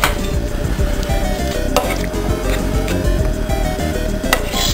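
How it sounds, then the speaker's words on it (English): Spaghetti meat sauce being stirred in a pan on low heat, with a steady close scraping and soft sizzle and a few faint utensil taps against the pan. "Stir that together."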